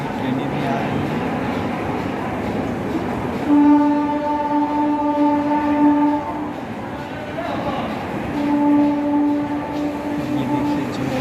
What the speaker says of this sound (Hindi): ट्रेनें भी आ रही हैं।